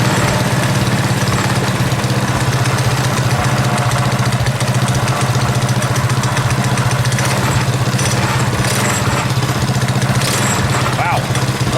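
A Predator 212cc engine on a modified KT196 go-kart idles loud and close, a steady low rumbling drone running unbroken throughout.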